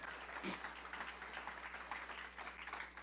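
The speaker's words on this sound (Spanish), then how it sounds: "Suéltele un aplauso, hermano, al Dios Todopoderoso." Applause from a church congregation at a midweek discipleship service, a steady wash of many hands clapping at a low, distant level.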